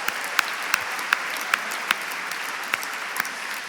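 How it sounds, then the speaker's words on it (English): An audience at the 2019 SAGE Awards & Gala applauds, a steady wash of clapping with a few sharper claps standing out at regular intervals, sustained throughout without speech. "You want to give yourselves a round of applause for looking so good?"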